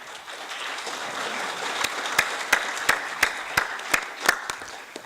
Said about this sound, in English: asking for a big round of applause for our four wonderful panelists